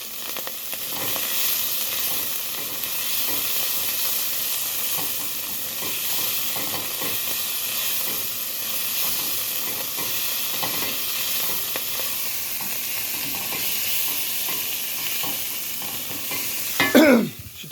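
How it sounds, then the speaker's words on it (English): Food sizzles in a hot pan while being stirred, a continuous bright hiss with scraping stirs throughout and a sharp clatter near the end; no one speaks. "Now I mix it all up."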